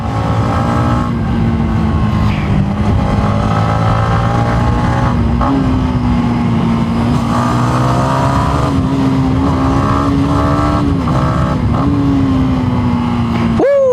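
A Yamaha MT motorcycle with a stock exhaust revs and pulls hard on the road, its engine tone rising and falling continuously and loud throughout, with wind noise and no voices.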